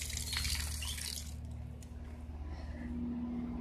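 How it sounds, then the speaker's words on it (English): Water runs from a garden hose onto a foot in summer, a soft continuous splashing hiss that is faint and steady throughout. "See how that water's getting onto my foot?"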